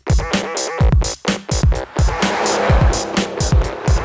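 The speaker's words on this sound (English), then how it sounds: "This is, again, the Mercedes CL65." A Mercedes-Benz CL65 AMG driven hard on a winding mountain road, with repeated loud engine surges and tire squeal through the bends, close and continuous over about four seconds.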